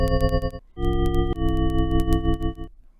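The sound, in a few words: synthesized sound made of 12 sine waves, 20 to 4000 Hz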